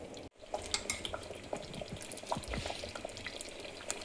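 Milk pours into a pot of sago kheer on the stove, with a soft liquid pour and light clinks of utensils and pot over a quiet kitchen background.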